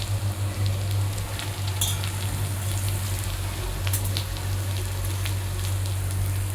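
Onions frying in oil until golden brown make a dense, steady crackle close by, with scattered sharp pops and a constant low hum running underneath.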